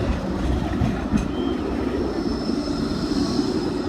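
A Blackpool tram passes close by during the Illuminations, a steady loud rumble of wheels on rail with faint high squeal and hiss, continuous throughout with no voices.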